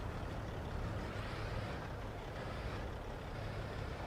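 Loaded Kenworth logging truck in Farming Simulator 25 rumbles steadily at close range, a low continuous engine drone with no clear air-brake hiss standing out.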